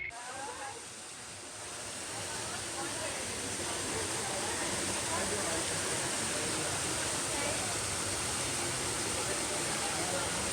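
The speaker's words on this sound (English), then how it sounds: "I also have a waterfall." A recorded waterfall sample: a steady, dense rushing roar of falling water that swells slightly in the first couple of seconds, then holds loud and even throughout with no voices.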